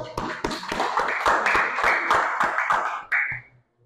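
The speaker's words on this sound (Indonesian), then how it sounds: "Oke, beri tepuk tangan buat Jo." A classroom audience applauds a student named Jo: a burst of steady, fairly close hand claps at a lively even rhythm for about three seconds before tapering off.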